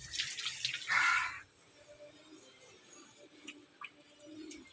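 Water gushing and splashing as a washed kantha quilt, stitched from old saris, is wrung out by hand in a village. A short loud burst is followed by faint dripping and trickling.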